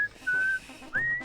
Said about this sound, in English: is he whistling the intro?